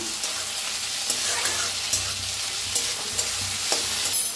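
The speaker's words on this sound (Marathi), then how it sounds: "आता कांदा आपला छान भाजलेला आहे, त्याच्यात टाकूया टमाटर। टमाटर बी छान असं भाजून घ्यायचं।" Tomatoes and onions fry in a pan for a cauliflower and potato dish, with a continuous near sizzle and regular spoon stirs and scrapes recurring every half second or so.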